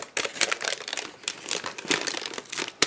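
Wax paper being peeled off a decorated wax candle, close crinkling and rustling with a sharp crackle at the end, no talk.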